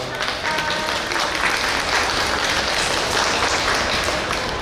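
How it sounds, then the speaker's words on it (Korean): A crowd at a bookstore library author talk applauds loudly and continuously, a dense unbroken roar of clapping after a brief quieter start. "여러분 다시 한번 큰 박수 부탁드리겠습니다"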